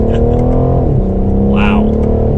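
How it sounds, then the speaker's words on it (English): A 2020 BMW M760i sedan with a V12 engine pulls away under light throttle, a smooth loud engine note rising in pitch and shifting once as it gains speed, heard from inside the car while someone talks over it. "we'll do one acceleration just to feel out the 12-cylinder"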